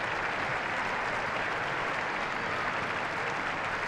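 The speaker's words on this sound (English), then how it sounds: "players applauding on the pitch and fans standing to do the same" Sustained applause from players on the pitch and fans standing in the stands at the Irish Women's Challenge Cup Final between Cliftonville Ladies and Linfield Women, a dense, steady wash of clapping from a large crowd throughout.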